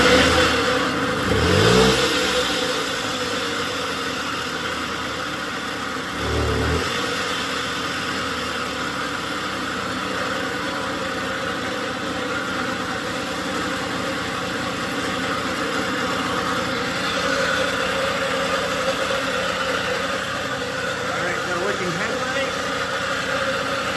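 A seized 1977 Puch Maxi Sport moped with an E50 engine sputters and revs up twice in quick bursts, then settles into a steady, buzzing idle close by, while a voice talks now and then over it.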